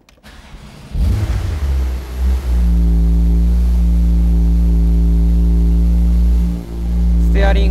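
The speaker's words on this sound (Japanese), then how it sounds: "ではエンジンを始動していきます。" A 2016 Porsche 911 Type 991 Turbo Cabriolet with PDK cranks and fires with a loud surge, then settles into a steady, deep idle with a brief dip before holding a smooth hum.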